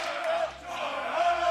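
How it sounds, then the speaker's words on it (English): Esports arena crowd at a League of Legends LEC Spring Split match between G2 Esports and Schalke 04, a sustained roar of cheering voices swelling and dipping across the moment. "the crowd is starting to erupt"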